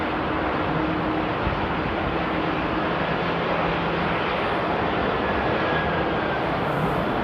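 Broad, roaring jet engine noise fills the clip at a steady, loud level as a heavy airliner takes off from runway 24 at Amsterdam Airport nearby.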